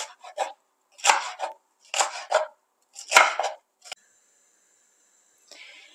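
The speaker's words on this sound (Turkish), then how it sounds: "Onları da şöyle iri iri doğruyorum" Capia and Yeşilköy peppers are coarsely chopped on a board, giving four close bursts of rapid knife strokes with short pauses between them, then a faint high tone and a soft rustle at the end.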